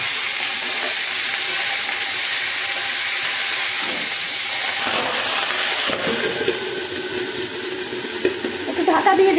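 Pumpkin greens dropped into hot mustard oil in a kadai give a steady, loud sizzle and hiss that fills the whole stretch, with stirring scrapes growing busier toward the end.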